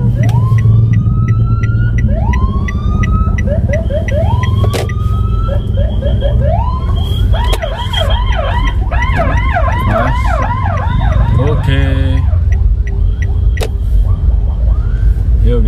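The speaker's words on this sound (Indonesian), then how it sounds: "Kok ada sirine guys, sebelah mana?" A loud wailing ambulance siren rises and sweeps over heavy road and engine noise in drizzly, congested traffic, heard from inside a car, its tone shifting into rapid yelps midway.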